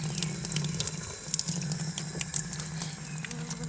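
A village fountain in Aragón, Spain, runs steadily, its water splashing into a basin in a close, continuous gush with no voices over it.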